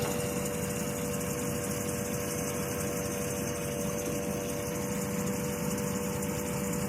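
A car engine idles steadily in a parked vehicle with its check-engine light on, a constant close hum with a fixed mechanical whine, unbroken and without talk.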